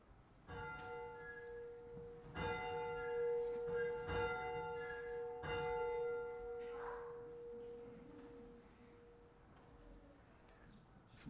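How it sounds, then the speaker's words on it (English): Church bells ring during a Sunday worship service, with several distinct strikes whose tones hang and overlap, then fade into quiet with no one speaking. "Some great bell ringing there."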